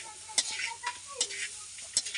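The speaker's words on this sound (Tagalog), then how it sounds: "Haluin lang muna natin siya bago natin siya lagyan ng asukal." Grated cassava and coconut being stirred in a pan with a utensil, soft sizzling under sharp scraping taps against the pan at irregular intervals, close and fairly quiet.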